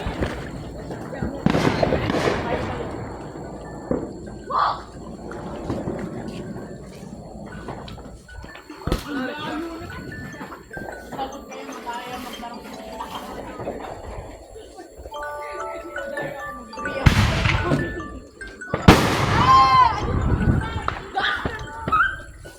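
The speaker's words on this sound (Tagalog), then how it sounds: "ang ganda ng mga fireworks ngayon" Holiday fireworks in Houston, Texas pop and burst at varying distances, some sharp loud cracks among crackling and whistles, with people talking throughout.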